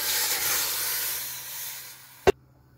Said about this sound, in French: Je vais rajouter un tout petit d'eau pour saisir la viande.